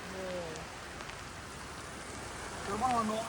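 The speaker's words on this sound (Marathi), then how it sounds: "त्याच जोमामध्ये पाऊस येत आहे." Steady cyclone rain falling in Sangvi near Tuljapur in a soft, even hiss, with voices talking over it near the start and end.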